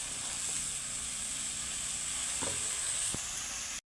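Chikni greens with spices frying in oil in a village kitchen, giving a close, steady hiss of sizzling with a few scraping stirs, until it cuts off abruptly. There is no talking.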